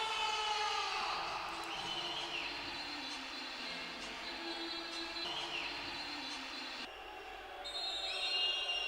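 An end-of-match siren sounds at a Serie A futsal game between Capurso and Feldi Eboli, a sustained wail heard faintly over a steady roar of crowd noise in an indoor arena.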